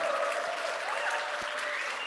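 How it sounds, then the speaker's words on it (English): Audience applause at a Drucker Forum gathering, a steady, dense wash of clapping from a large crowd that holds evenly throughout, fairly distant with no clear talk over it. "Big round of applause to everybody, please"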